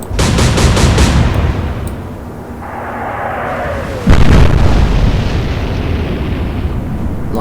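Naval gunfire explosions in the Atlantic Fleet naval warfare game, a loud rapid volley of blasts, then a sustained rumble, with a sharp heavy boom near the middle and continued roaring.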